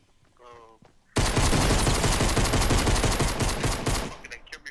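Pistol fire in the battle royale game Fortnite begins abruptly after a short spoken bit and continues as a loud, dense burst of rapid shots lasting about three seconds before it fades away.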